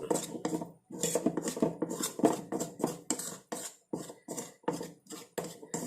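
Henna powder and hair dye ingredients are mixed in a bowl with a spoon, making quick rhythmic scraping and clinking strokes, close and fairly loud, with short pauses between bursts.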